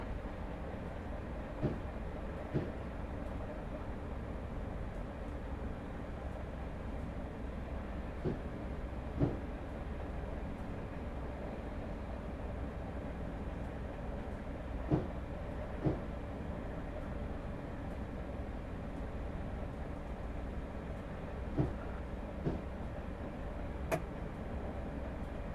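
A Class 313 electric multiple unit rolls steadily along the rails at low speed, a continuous low rumble inside the cab with occasional sharp clicks and knocks from the track joints.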